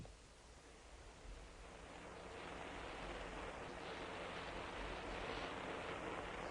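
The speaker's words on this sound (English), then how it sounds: "The monsoon rain pouring down." Heavy monsoon rain pours down in a dense, steady hiss that swells louder midway and holds, with no voices.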